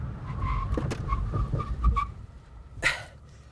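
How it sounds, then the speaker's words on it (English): A 4,847-pound Mercedes-Benz CL65 AMG braking hard from 60 mph to a stop, its tires squealing in a few wavering bursts over a low road rumble, followed by a sharper scrape and then quiet. "And now we do the 60 to 0 braking test."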